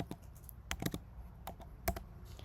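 Typing on a computer keyboard into a browser search bar, scattered quiet key clicks with a few sharper taps, close and alone.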